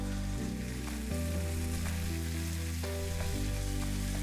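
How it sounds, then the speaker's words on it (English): Onions fry in a pan with a steady, close sizzle and crackle, joined by low humming tones, and no talk over it. "now the onions have started to cook down"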